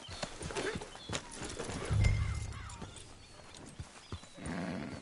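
A horse in the Red Dead Redemption 2 video game sets off at a trot, with rhythmic clip-clop hoofbeats, snorting and a whinny over game ambience. A voice speaks briefly.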